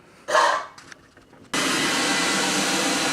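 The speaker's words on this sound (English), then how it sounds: "turn on my blow dryer and begin." A blow dryer switches on and blows air into a homemade metal-melting furnace with glowing coals, a sudden steady loud whoosh that continues evenly after a few brief knocks and a short burst of noise.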